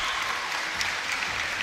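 A K-1 rules kickboxing crowd bursting into loud, sustained applause and cheering in an arena, a dense continuous roar of clapping.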